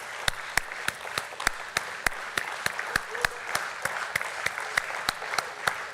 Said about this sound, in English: Let's keep clapping. Let's keep clapping.